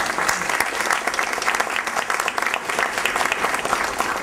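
An audience applauds steadily throughout, dense clapping from many hands in a large room, no pauses.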